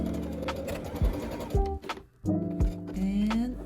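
Sewing machine stitching a French seam at a quarter-inch seam allowance, short bursts of rapid mechanical whirring broken by brief pauses and small clunks, close and moderately loud without talk.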